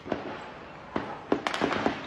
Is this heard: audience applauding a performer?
no